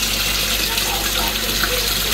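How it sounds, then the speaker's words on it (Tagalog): Water pouring without pause into the tub of an automatic washing machine whose water level sensor has failed, a steady broadband hiss and gush, close and even across the whole stretch. "tuloy-tuloy lang yung tubig niya"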